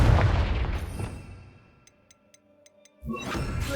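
A Confringo explosive spell goes off in the Hogwarts Legacy video game: a heavy blast that decays into near silence with faint ticking, then another loud burst of noise near the end.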